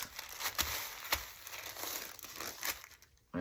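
Thin plastic wrap folded by hand, continuous close crinkling and rustling with a few sharper crackles, fading near the end.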